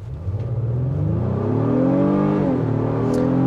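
A 2023 Honda Pilot Trailsport SUV floored from a standstill, its engine note rising steadily in pitch, dipping briefly at a gear change and climbing again, loud and close with no talk.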